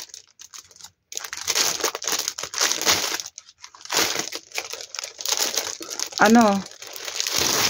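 A plastic package holding cargo jogger pants is torn and opened, with close crinkling and rustling in bursts and brief pauses, and a voice speaks in between.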